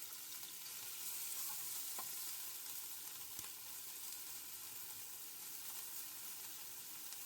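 Wild fennel frying in a pan with anchovy fillets and a clove of garlic, a steady, soft sizzle with occasional faint pops and stirring clicks throughout.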